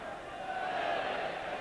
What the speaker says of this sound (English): The Highbury faithful applauding this little sequence.